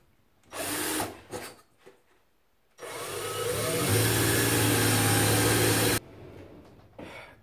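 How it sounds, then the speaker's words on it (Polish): A power drill with a 9 mm bit boring holes: a couple of short whirring bursts, then a long, loud, steady drilling run of about three seconds that stops abruptly, followed by quieter handling noise. "ja sobie użyję tutaj wiertła dziewiątki i porobię sobie tutaj też jeszcze takie otwory dziewiątką"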